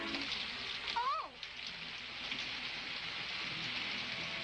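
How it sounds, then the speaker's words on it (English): Steady rain falls as a constant hiss throughout, with a brief voice speaking over it near the start. "it's raining."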